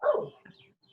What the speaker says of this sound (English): Yes, and even the doggy agrees with me.